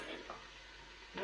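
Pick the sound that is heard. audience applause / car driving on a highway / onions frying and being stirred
onions frying and being stirred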